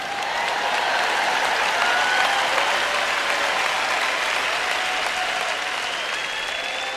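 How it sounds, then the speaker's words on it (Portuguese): A crowd claps enthusiastically in sustained, even applause, close and loud throughout with no pause. "Vamos aplaudir o Dave."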